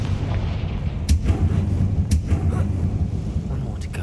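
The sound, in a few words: Confringo fire spell explosion in the video game Hogwarts Legacy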